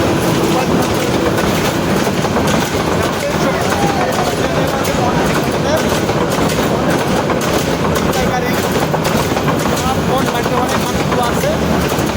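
A train passes loudly along the railway nearby in a dense, unbroken roar with rhythmic clattering wheels, while voices murmur underneath.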